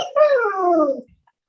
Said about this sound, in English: Got some feedback from the dog.